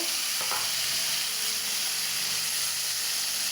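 Bitter gourd (karela) frying in hot oil, a dense, even sizzle and hiss throughout with a brief stir near the start, close and steady, no voices.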